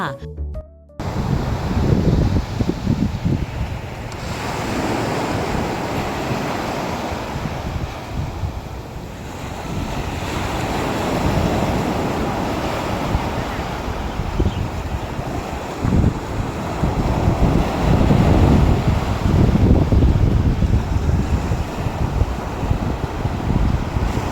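Sea waves wash onto the shore at Pranburi beach, a broad rolling surf roar mixed with gusty wind buffeting the microphone, swelling and easing over about twenty-five seconds, with faint talk in places.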